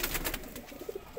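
Kasuri Teddy pigeon cooing in soft low bursts near the microphone, a few short murmuring coos over a steady background hiss with no talk.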